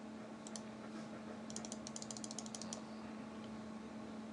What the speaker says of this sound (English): let's do one more typing test before we call it quits